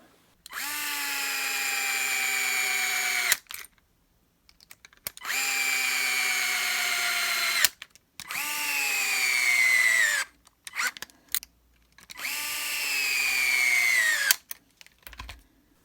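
A power tool bolts aluminum Losi option parts onto the rear axle of a Losi Baja Rey RC truck, giving four separate whirring bursts of a few seconds each, close and clear, the pitch sagging as each one ends.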